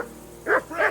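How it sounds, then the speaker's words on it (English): A dog barking in the video game Kingdom Come: Deliverance 2, giving two short, close barks in quick succession over a quiet background. "Jesus, Henry, that barking's driving me nuts."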